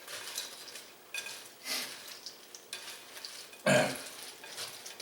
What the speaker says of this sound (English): I'm using a silicone spatula because I don't want to break everything more than it already is.